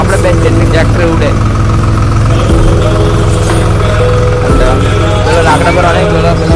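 A tractor engine runs loud and close at a steady idle, with a low rumbling drone and a brief dip in pitch partway through.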